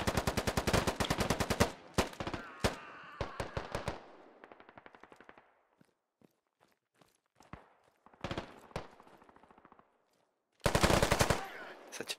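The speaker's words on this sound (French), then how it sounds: "Ça tire sur nous." Bursts of rapid automatic gunfire in a Squad street-combat match, with dense volleys at the start, scattered single shots and footsteps in a quieter middle, then another loud sustained burst near the end.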